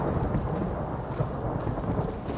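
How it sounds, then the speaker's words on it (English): Thunder rumbling through a storm in the video game God of War, a steady low roll with rain-like hiss, loud and continuous with no clear separate claps. "Why did it start thundering too?"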